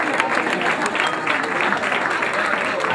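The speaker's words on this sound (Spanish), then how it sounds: "pero se merece un aplauso también" Applause at a tennis awards gala: a crowd claps steadily and fairly loudly for the full few seconds, with some voices mixed in.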